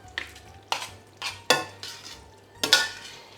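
Drained pasta is stirred into an aubergine sauce in a pan, with about five or six distinct wet scrapes and clacks of a spoon against the pan. The strokes are close and moderately loud, spaced roughly half a second apart.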